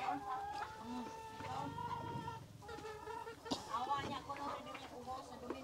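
Rhode Island Red and native chickens clucking in a farmyard near nest boxes, a steady run of close clucks and short calls with a brief crow-like call, a person talking over them.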